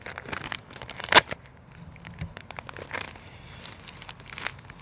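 Tape peeling off comic book packaging makes crinkling, tearing noises up close, with one sharp loud rip standing out among softer rustles of plastic and paper.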